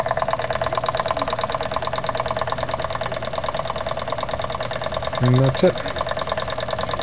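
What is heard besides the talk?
line shaft running to drive generators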